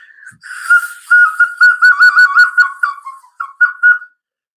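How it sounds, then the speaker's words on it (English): A small pig-shaped toy whistle being blown close up: a run of shrill, warbling toots in quick bursts, some wavering in pitch, with a short pause before a final few blasts, and no talking. "This is a little pig, but it's a whistle, so you blow into his ass."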